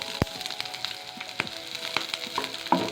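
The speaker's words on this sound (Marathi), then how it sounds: "हे कंटिन्यूअस असे दाणे जे आहेत ते चांगले हलवत राहावेत आणि दाणे चांगले हे भाजून घ्यावेत" Corn kernels roast and get stirred in a pan over low-medium flame, a steady soft sizzle broken by sharp isolated pops and scraping clicks, close and alone without talk.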